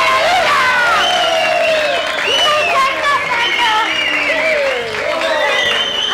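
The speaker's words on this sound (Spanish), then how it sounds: "Vamos a dar un aplauso fuerte." A TV studio audience on a Saturday variety show breaks into loud applause with cheering and whoops, voices shouting over the steady clapping for the whole stretch.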